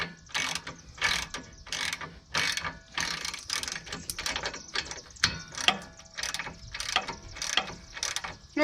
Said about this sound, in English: So we'll see if that wrench back there even moves.